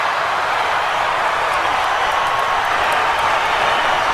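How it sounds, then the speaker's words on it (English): A boxing arena crowd roars steadily through a world light middleweight fight between Miguel Cotto and Ricardo Mayorga, a dense continuous wash of cheering and scattered applause at constant volume with no clear voices on top. "Crowd going wild."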